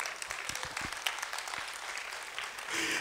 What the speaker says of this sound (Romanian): Aplaudați dacă vreți să...